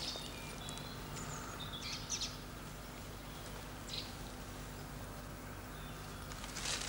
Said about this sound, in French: Une mésange.